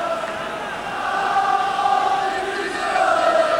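Steady stadium crowd noise cheering on Tottenham against Bayern Munich in a UEFA Cup match in the All Star Soccer video game, a continuous roar that rises and swells slightly over several seconds.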